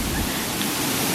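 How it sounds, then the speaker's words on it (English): A small hidden waterfall in Northumberland gives a steady, broadband wash of falling water, close and continuous with no talk over it. "I thought it was a big waterfall."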